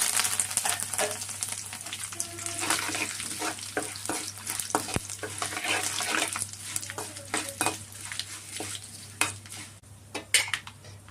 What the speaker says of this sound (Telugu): ఇప్పుడు ఎండుమిర్చి వేసుకుందాము కరివేపాకు కూడా వేద్దాం